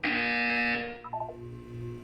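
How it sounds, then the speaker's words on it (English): A loud electronic buzzer from the video game Portal 2 sounds steadily for about three-quarters of a second, then cuts off, followed by a few short softer electronic tones over a low hum. "You will hear a buzzer."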